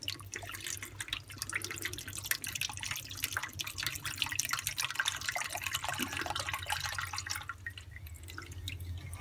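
Diesel fuel draining out of an old fuel filter removed from a 2004 Mercedes Sprinter 311 CDI van, heard as a faint, steady trickle and drip over a low background hum.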